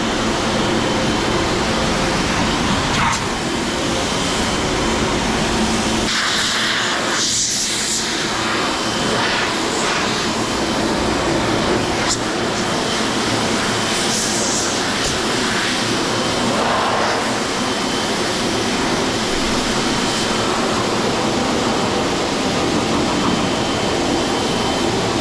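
A car wash air dryer blasts over a Lexus LC 500, a steady, loud roaring rush of air that holds for the whole stretch with slight shifts in tone as the blowers work along the car.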